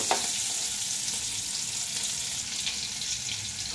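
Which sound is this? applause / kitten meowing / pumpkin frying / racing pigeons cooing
pumpkin frying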